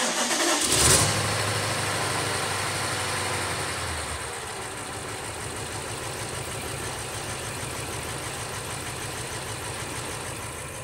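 A BMW N63 V8 with VANOS faults cranks briefly from cold, catches with a loud burst, then settles into a steady, close idle that hums on evenly without talk.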